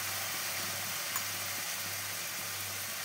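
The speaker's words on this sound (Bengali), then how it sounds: "আদা জিরে কাঁচা লঙ্কা আর হলুদ একসঙ্গে মিশিয়ে একটা মশলা বানিয়ে নিয়েছি, সেটা এখন তেলে দিয়ে দিলাম।" Ginger, cumin, green chili and turmeric paste frying in hot oil for a chitol fish curry, a steady soft sizzle holding level throughout with no talk.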